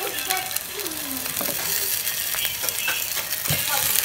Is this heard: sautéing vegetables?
yes